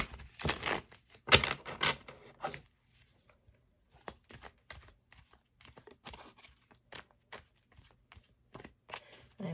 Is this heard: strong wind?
no